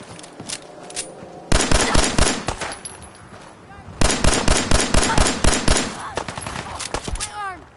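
Fallout 4 gunfire rattles in rapid automatic bursts, loud and close, broken by short pauses between volleys, with shouting voices mixed in.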